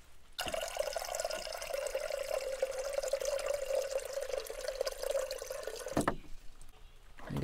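Water poured steadily into the reservoir of a Coleman stovetop camping coffee maker, a continuous trickling, filling stream that runs for several seconds, then cuts off with a brief clunk and rustle at the end.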